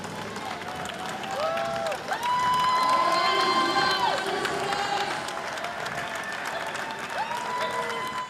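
A crowd in Brooklyn cheers and applauds for wounded warriors, a continuous wash of clapping and shouting with a few high whistle-like tones rising above it, fairly loud and sustained throughout.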